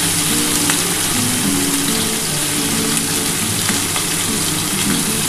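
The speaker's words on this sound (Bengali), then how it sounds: "মাছগুলো ভেজে নিই" Katla fish fries in hot oil with a loud, steady, dense sizzle and crackle that holds evenly throughout, close up and with no talking.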